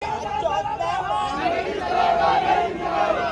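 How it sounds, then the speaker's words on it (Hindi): A dense crowd of farmers gathered at a fertilizer distribution point, a loud continuous babble of many overlapping voices with raised shouts, steady throughout and close. "इस प्रक्रिया में थोड़ा समय लगने से भीड़ इकट्ठा हो जाती है।"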